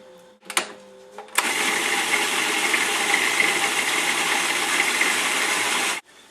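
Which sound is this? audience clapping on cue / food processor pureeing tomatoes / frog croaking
food processor pureeing tomatoes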